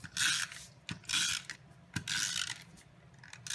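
A Stampin' Up Snail adhesive tape runner rolled across a card base for a Halloween card, giving three short bursts of dry, ratcheting clicks with soft thumps between them, close and alone.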